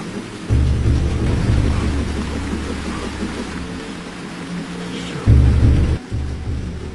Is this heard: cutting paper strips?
no